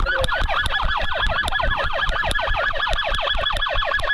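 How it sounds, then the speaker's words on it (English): Police car sirens in a video game wail in rapid, repeating up-and-down sweeps, loud and continuous, with sharp clicks and bangs scattered throughout. "what's up with the sirens? Turn the sirens off, bro."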